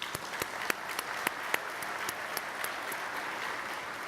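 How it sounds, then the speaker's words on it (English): An audience at a transit association's annual meeting gives a steady round of applause, a dense crackle of many hands with a few sharper, closer claps standing out. "Please give them a round of applause."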